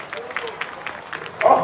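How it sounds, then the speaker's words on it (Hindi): Audience applause at a staged Ramayana dialogue between Ravan and Angad, a brief burst of clapping that swells near the end, mixed with crowd noise. "तालियां, जोरदार तालियां।"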